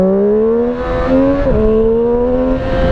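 A Triumph Street Triple RS 765 motorcycle accelerating hard, its engine note climbing smoothly in pitch through a gear change, close and loud with no talking.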